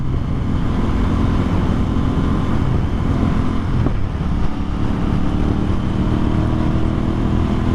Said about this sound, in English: It rides very smooth as we come into our first corner here.